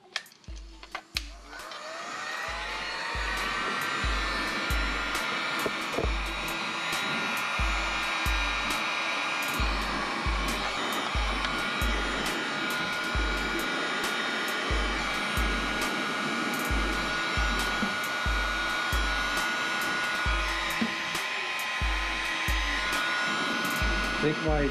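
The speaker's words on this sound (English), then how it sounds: "use the heat gun to hopefully shove that PVC through" Heat gun warming PVC pipe while building an IBC tote bait tank, a steady loud blower roar running throughout with a regular rhythmic low thumping beneath it.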